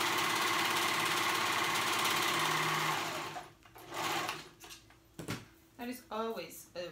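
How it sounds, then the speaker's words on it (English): A serger whirs rapidly and steadily at close range for a few seconds, then stops, followed by a few short bursts of stitching and a voice speaking. "I'm sewing the sides together. Ugh. I'm using my serger."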